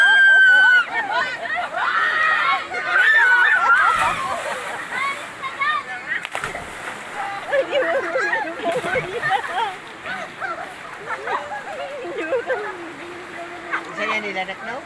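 Outdoor irrigation water flowing and splashing steadily during a nature trip, heard continuously beneath several people chatting and calling out nearby.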